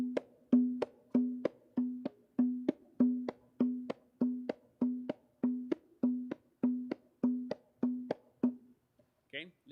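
A plena hand drum with its skin muted by the fingers plays a steady rhythmic pattern of about sixteen evenly spaced, sharp, resonant strokes, close and alone, ending with a brief faint sound.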